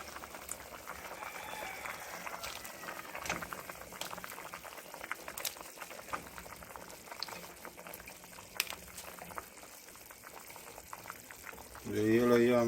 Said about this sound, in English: so I am putting in the yellow yam in the soup.